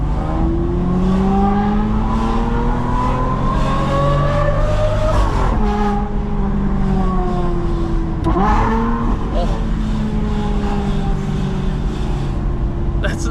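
Aston Martin V12 Vantage S fitted with an F1 exhaust, its V12 revving hard in repeated rising and falling sweeps with a crack between pulls, loud and close, with voices underneath.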